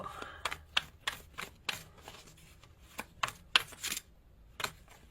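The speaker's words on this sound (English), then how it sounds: "I know the shuffling can be annoying sometimes" A tarot deck being shuffled by hand: a run of crisp, papery riffles and card slaps at irregular intervals, close and moderately loud, with no talking.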